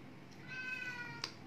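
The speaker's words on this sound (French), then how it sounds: "vous risquez d'avoir une musique de fond avec mon chat qui n'arrête pas de miauler parce qu'il veut sortir" A house cat meows insistently in the background, wanting to be let outside; a faint, drawn-out cry with a short sharper call near the end, heard indoors at low level.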